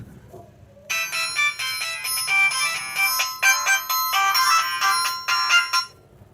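An electronic phone ringtone plays after a moment of quiet, a bright repeating melodic chime, loud and close.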